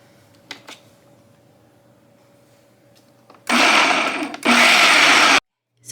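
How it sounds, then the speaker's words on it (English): Food processor pulsing flour and sugar for pie crust: after a quiet stretch with a few faint knocks, two loud whirring pulses, the second one longer, then abrupt silence before the motor starts up again. "we're just going to pulse this for a few times to mix that up"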